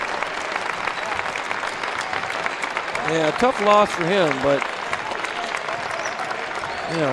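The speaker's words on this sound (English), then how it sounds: "the crowd on their feet for a well-deserved round of applause" A basketball crowd at a high school playoff quarterfinal gives a standing round of applause, steady clapping and cheering throughout, with a commentator talking over it in the middle.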